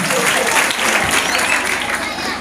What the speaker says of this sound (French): Nous pouvons applaudir aussi pour notre gouverneur Jean-Denis Lobila Ndaka.